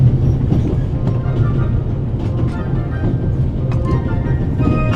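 Steady rumbling of a train rolling along rails in the video game The Raven, a constant low, close mechanical drone with faint rattling that runs unbroken throughout.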